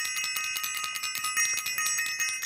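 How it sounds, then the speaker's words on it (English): A bicycle bell rings repeatedly in quick succession, bright metallic dings in a steady rapid rhythm, close and alone with no talking. "let me ring the bell"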